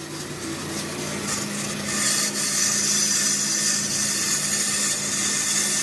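A brake lathe takes a slow finishing cut on a drum from a C10/K10 half-ton truck's duo-servo drum brake, giving a steady, continuous scraping hum with a faint tonal whine that holds without pause.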